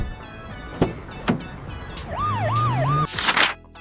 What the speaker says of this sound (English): This is a mini ambulance.